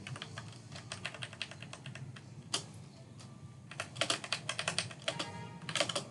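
Someone types C++ code on a computer keyboard in Visual Studio, producing rapid, close clattering keystrokes in uneven bursts, with a louder key press now and then and no talking.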